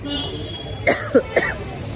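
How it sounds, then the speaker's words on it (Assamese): A person with a cold coughs three times in quick, close succession, short throaty bursts over a low background hum. "কাহ হৈছে কালিৰ পৰা চৰ্দি লগাৰ দৰে"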